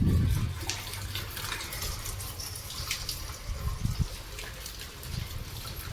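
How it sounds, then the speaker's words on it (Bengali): Water pours steadily from a tap in a continuous hiss and splash, with a few low knocks and thumps. The flow stays at an even level throughout. "এখনো জল পড়ে যাচ্ছে"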